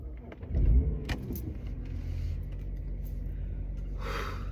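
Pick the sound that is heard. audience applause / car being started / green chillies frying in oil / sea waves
car being started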